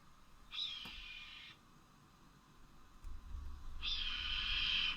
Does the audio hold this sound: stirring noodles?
no